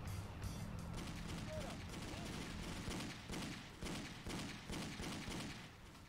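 Gunfire in the crime driving game Driv3r erupts in quick repeated bursts, a rapid run of shots over a constant wash of game noise, fairly quiet overall.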